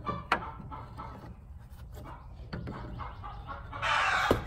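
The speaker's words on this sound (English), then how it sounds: "And yes, the noisy chickens are still here." Chickens cluck nearby in scattered morning egg-song calls, then a rooster crows loudly near the end over a background of farmyard noise.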